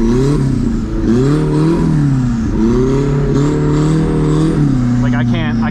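A turbocharged Nissan 240SX engine revs hard and close while drifting on a rain-soaked road, its pitch climbing and falling in repeated surges with a brief whirring flutter near the end.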